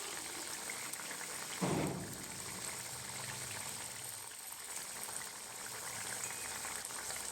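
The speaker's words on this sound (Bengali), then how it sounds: "দেখুন জলটা দেওয়ার পর ঝোলটা একটু ফুটছে" Bata fish jhal gravy simmers in a pan after water is added, giving a faint, steady bubbling hiss with one brief louder burst early on. No one speaks.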